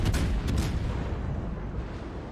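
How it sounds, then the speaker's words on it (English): Warship guns fire shells in the World of Warships naval video game: two quick heavy booms at the start roll into a loud, sustained low rumble that slowly fades. "Look at those shells churn out."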